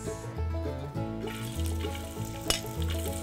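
Onion sautéing in a pan for tamales sizzles steadily with a bright frying crackle and a brief sharp stir, while a sustained musical drone plays underneath.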